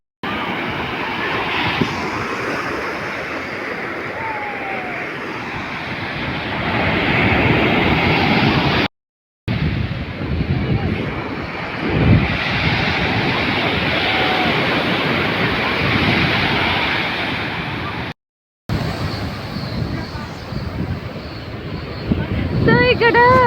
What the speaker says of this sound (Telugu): చూడండి బీచ్ ఎలా ఉందో.